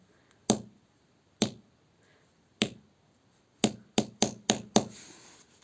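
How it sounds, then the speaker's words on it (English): Sharp hammer strikes on a Corsair Vengeance RGB Pro DDR4 RAM module, a few spaced hits followed by a quick burst of four or five blows, close and crisp. "hammer to test if it is breakable or not."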